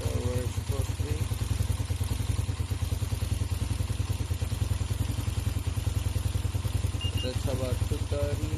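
A motorcycle engine with a re-jetted carburetor and overhauled exhaust idles steadily with a low, rapid chugging rumble, close by, while a voice talks briefly over it.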